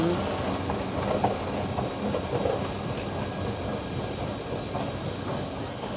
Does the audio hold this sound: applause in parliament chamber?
no